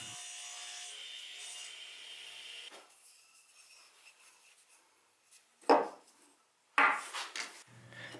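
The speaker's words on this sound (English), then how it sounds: "then I square the ends using my radial arm saw" A radial arm saw whines steadily, then two short harsh bursts of the blade biting through the ends of a wood block, with quiet shop handling in between.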